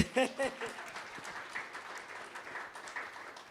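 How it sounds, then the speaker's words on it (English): Symposium crowd applauds softly and at a distance, a thin patter of clapping with a brief voice near the start. "Round of applause."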